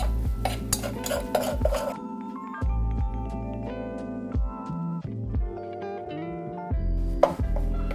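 A whisk or spoon scrapes and clinks steadily around a metal pan as a flour roux cooks toward a peanut-butter color, close and continuous, with pot and utensil knocks throughout and no talking.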